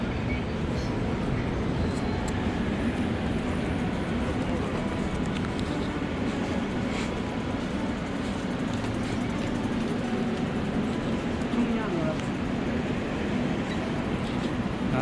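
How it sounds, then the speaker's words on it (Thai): An overground train running on its rails after leaving the subway, a steady loud rumble and rattle of wheels and carriage heard from inside, continuous throughout with faint voices in the background. "หลังจากออกจากรถไฟใต้ดินเราก็จะขึ้นมา นั่งรถไฟ อยู่หน้าดินอีกนะ"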